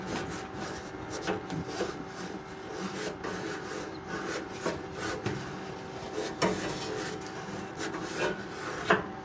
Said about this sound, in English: we're just gonna clean it up with some Scotch-Brite real quick